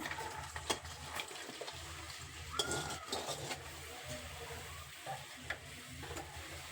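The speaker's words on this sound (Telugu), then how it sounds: "కొంచెం ఆయిల్ పోసుకొని ఉల్లిగడ్డలు తరగబెట్టిన ఉల్లిగడ్డలు వేస్తున్నా" Chopped onions frying in oil in a pan for a crab curry, a quiet close sizzle with soft scrapes and clicks of stirring scattered throughout.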